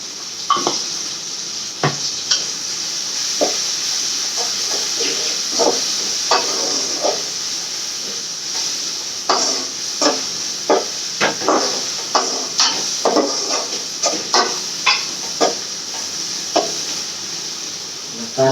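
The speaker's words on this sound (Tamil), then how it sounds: "வெந்தயக்கீரை கசப்பு இருக்கும். அதனால நல்லா வதங்கணும்." Fenugreek greens sauté in a pan with a steady sizzle and hiss while a spatula scrapes and clacks against the metal at irregular intervals, the taps growing more frequent toward the end, close by with no talking.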